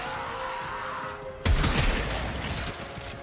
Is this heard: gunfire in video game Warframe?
yes